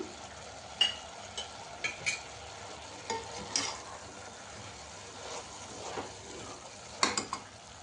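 Spoon stirring chili powder, coriander powder, garam masala and turmeric into vegetable pieces in a pan for khichdi, giving soft scraping strokes with light sizzling and occasional clinks against the pan, moderately near.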